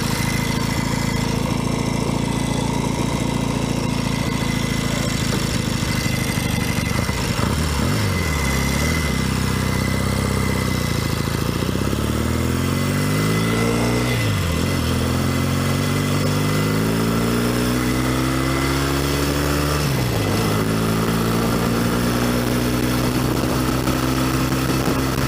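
A 1964 Royal Enfield Interceptor 750 twin idles steadily up close, with a few brief throttle blips lifting the revs before they settle back to a lumpy idle, and no talking.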